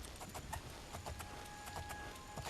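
A horse galloping in the game Oblivion, quick repeated hoofbeats at a steady running rhythm, moderately faint under a constant background hum.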